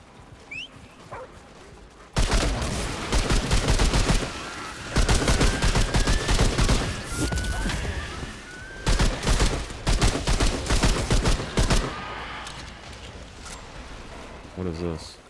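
Automatic rifle fire in the video game Remnant 2, rapid bursts of shots in several long volleys separated by short breaks, loud and close with game sounds and a voice talking in between.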